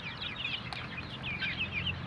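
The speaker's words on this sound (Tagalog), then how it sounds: "mga pure darag native chicken po yan" A group of pure Darag native chickens, mostly hens around three months old, clucking and chattering continuously at close range, with overlapping calls and no talking.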